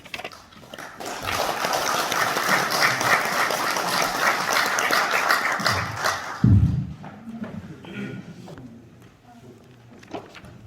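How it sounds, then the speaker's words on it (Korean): An audience at a university forum lecture applauds to welcome the speaker. The clapping is steady and fairly loud for about six seconds, then ends with a thump and scattered light noises. "바쁘신 일정에 불구하고 귀한 시간을 할애해 주신 김기선 총장님을 큰 박수로 영광으로 모시겠습니다."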